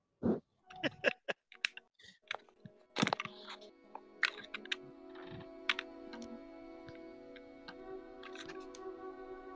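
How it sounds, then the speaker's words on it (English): Computer keyboard typing, heard as quick scattered clicks and taps at first, then a quieter hum continues underneath with occasional further clicks. "Sounds like someone's typing an essay."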